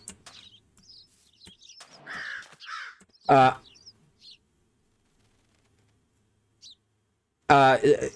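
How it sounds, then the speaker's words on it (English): Crows caw in short bursts around a speaker during a chill morning Minecraft Create Mod stream, a few scattered calls and chirps followed by a louder close cawing at the end, with quiet stretches between. "Sorry, I got distracted by the sounds of birds."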